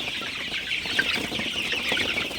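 Sonali super hybrid chickens in a night-time poultry shed cluck softly and continuously, a dense flock murmur with scattered nearer clucks, some birds perched on bamboo.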